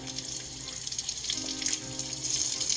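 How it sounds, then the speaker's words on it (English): Cold water runs from a kitchen tap over a whole spaghetti squash being washed, a continuous close splashing rush with no pauses or talk. "I like to wash it with cold water."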